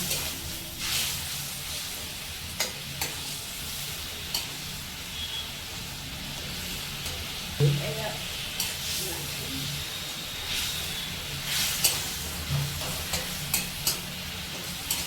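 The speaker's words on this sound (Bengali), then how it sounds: "একটু জল দিচ্ছে মশলাটাকে ভালো করে একটু কষাবার জন্য।" Spice paste loosened with a little water sizzles steadily in a pan while being stirred, with a soft hiss throughout and occasional scraping knocks from the spoon, for a banana kofta curry.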